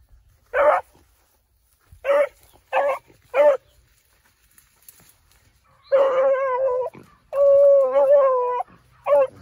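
A beagle bays on the trail during hound training, giving four short separate barks and then longer drawn-out howling bays, loud and close in otherwise quiet surroundings.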